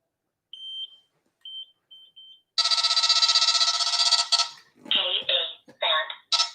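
An Escort Redline 360c radar detector sounds a Ka band alert: a few short, clear beeps spaced apart, then a loud sustained buzzing tone, followed by several choppy bursts.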